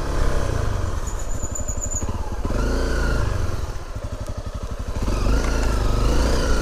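A small pit bike engine buzzes and revs steadily outdoors, rising and dipping in pitch with clattering mechanical chatter throughout, fairly loud and continuous with no talk.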